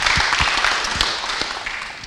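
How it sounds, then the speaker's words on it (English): An audience claps in a round of applause at a Disability History Month event, a fairly loud, dense patter of hands with a few sharper claps, tapering slightly toward the end. "Guys, I think that gives a bit of a round of applause"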